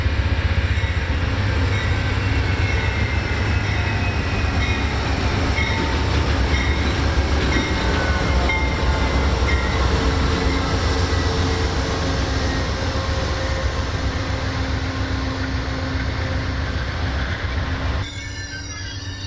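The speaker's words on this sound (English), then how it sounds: "the eastbound California Zephyr finally rolled to a stop at the beautiful Southern Pacific Depot" The eastbound Amtrak California Zephyr passenger train rolls into a Southern Pacific depot on snowy Donner Pass, its wheels grinding and squealing loudly and steadily as it slows, then dropping off sharply at the end.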